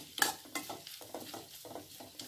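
Beef fry is turned in a hot pan with a spatula, steady sizzling under a few scraping stirs, close and moderately loud.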